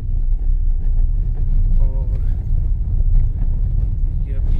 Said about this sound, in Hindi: तो अगर आप डंपर्स की ट्रैफिक देखें तो काफ़ी सारी बजरी और बाकी मटीरियल जो है वो ऊपर मूव कर रहा है।